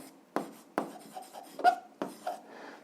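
Pen or pencil writing out an algebra solution on paper, a handful of short scratchy strokes and taps in an irregular rhythm, close and quiet.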